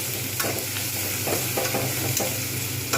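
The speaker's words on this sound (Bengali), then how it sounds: "আজকে খুব তাড়াতাড়ি ভাজা হয়ে যাবে তাই টমেটো কাঁচা লঙ্কা পেঁয়াজ একসঙ্গে দিয়ে দিয়েছি" Onion, tomato and green chili fry together in a pan for a Bengali bhetki fish curry, giving a steady close sizzle with repeated scraping strokes of stirring throughout; no talking.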